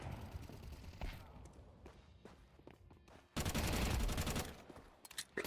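Gunfire in Counter-Strike 2 during a competitive match: sparse scattered shots and footsteps early on, then a loud sustained burst of rapid automatic fire lasting over a second, followed by a few more closely spaced shots.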